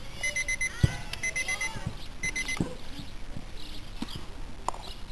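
An alarm clock rings in short, bright, repeated bursts, with scattered thumps and handling clatter around it, heard close.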